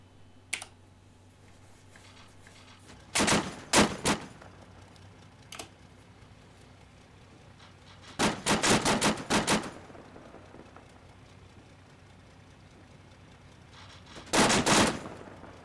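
Automatic gunfire in the military shooter Arma 3, three separate rapid bursts of crackling shots spaced several seconds apart, sharp and fairly close over a quiet hum.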